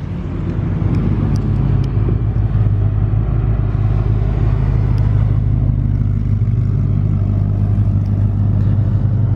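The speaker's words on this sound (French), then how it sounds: "Je filmais la Reguera arriver." A Koenigsegg Regera hypercar comes along a road, a loud, close, continuous low engine rumble and drone that stays heavy and steady throughout.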